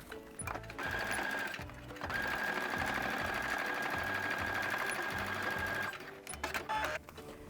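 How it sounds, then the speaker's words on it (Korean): A sewing machine runs a straight seam about 1 cm from the edge of a natural cork fabric zipper pouch. A short burst is followed by a long, steady, even whir of stitching, with brief pauses at the start and end. "끝에서 1cm 안쪽으로 쭉 직선 재봉을 해서 막아주세요"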